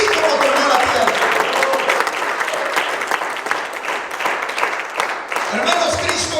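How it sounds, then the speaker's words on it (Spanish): A church congregation claps loudly and continuously in praise during a sermon, with dense, rapid hand claps throughout and some voices shouting over the applause. "¡Fuerte el aplauso a la gloria del Señor!"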